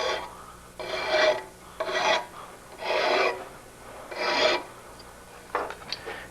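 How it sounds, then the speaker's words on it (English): Steel fork blade end clamped in a vise and cleaned up with an 8-inch flat file: five or six distinct rasping strokes in a steady rhythm, close and clear, with short pauses between them. "we'll just carefully clean up the end with an 8-inch flat file"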